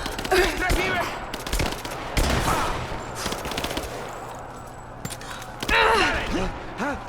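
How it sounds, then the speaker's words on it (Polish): Gunfire in Rise of the Tomb Raider, with bursts of shots in quick succession in a game combat scene, loud against background game sound and effects. "jakiś strzał elegancki w głowę to już jest po nim"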